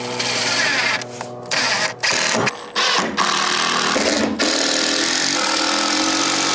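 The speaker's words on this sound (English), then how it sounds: "When I drill, you drill." Power drill driving fasteners into wall framing for an A-frame back wall, a loud continuous close whine broken by several brief stops and restarts.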